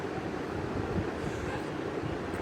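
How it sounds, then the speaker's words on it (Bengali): Shrimp frying in a pan with a little oil and water give a dense, continuous close sizzle that holds steady and loud throughout, with no voices. "পানি দিয়ে এটা আমি ভাজা ভাজা করবো এখন"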